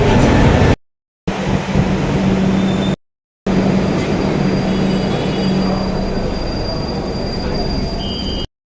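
A metro train at a metro station rumbles loudly and continuously, with wheel squeal and a steady rail roar, broken by two brief gaps of silence.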